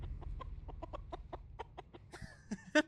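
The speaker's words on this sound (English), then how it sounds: "The chicken." A chicken clucks in a scene from the Fallout TV show, a string of short, evenly spaced clucks over a low background rumble, followed by a louder squawk and other sounds near the end.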